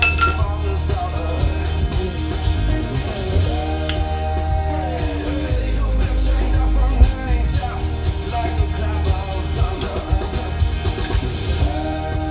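Metal gear pinion being slid onto a shaft while reassembling a VW T3 gearbox, giving a few light metallic clinks and taps over a steady low workshop hum.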